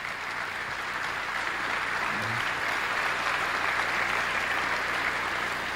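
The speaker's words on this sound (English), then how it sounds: "Were my children applauding there?" An audience claps at the 2003 Berkshire shareholder meeting: broad, sustained applause that fills the hall evenly, somewhat distant and without voices over it.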